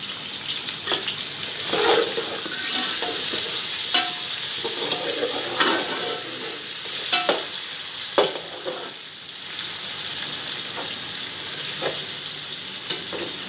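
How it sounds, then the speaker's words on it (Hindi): Onions fry in hot oil for matar pulao, giving a loud, steady, close sizzle with occasional crackles and stirring scrapes throughout. "ऑयल गरम करेंगे, इसके अंदर प्याज और ये सारी चीज़ें डाल देंगे फ्राई होने के लिए।"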